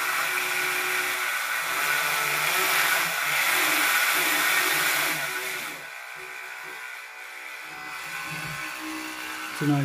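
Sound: Makita DTM50Z cordless multi tool running after repair

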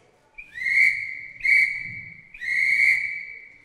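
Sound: police whistles blowing

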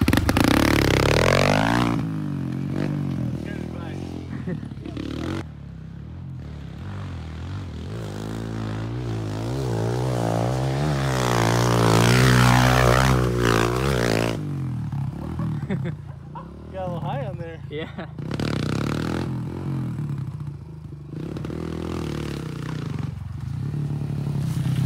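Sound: Kawasaki KLX 140 dirt bike engine revving on berms

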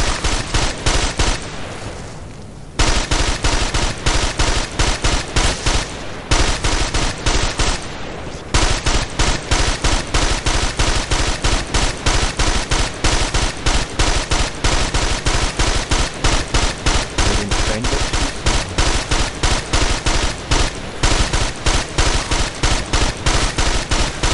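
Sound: sniper gunfire in video game Ghost Recon Advanced Warfighter

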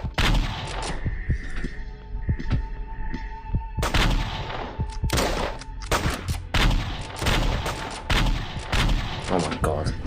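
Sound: gunshots in a Flash video game

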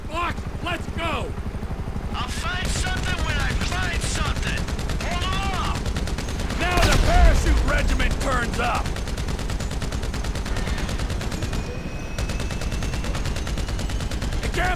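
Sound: gunfire, from video game Grand Theft Auto V

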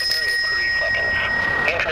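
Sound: bicycle bell ringing

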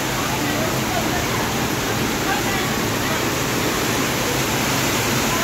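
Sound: rain falling

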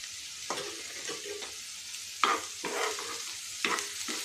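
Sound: chopped curry leaves stirred into frying mixture

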